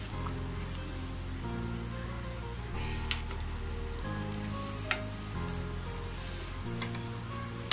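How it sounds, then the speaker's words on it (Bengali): Beef frying with jackfruit seeds in a pan gives a continuous soft sizzle and crackle, with a few sharp pops and faint clinks of a utensil scattered through, and no one speaking. "মাংসটা কিন্তু কষানো হয়ে যাচ্ছে, আমি আস্তে আস্তে কষে নেব খুব সুন্দরভাবে।"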